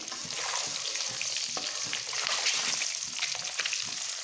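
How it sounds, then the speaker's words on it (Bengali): Eggs frying in hot oil in a pan, a steady dense sizzle and crackle running throughout with occasional louder pops and stirring scrapes. "ভেজে নিচ্ছি"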